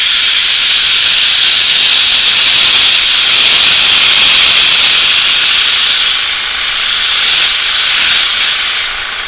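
A paint spray gun sprays thin paint at very low air pressure, hissing continuously at close range, a loud steady airy spray that dips slightly near the end.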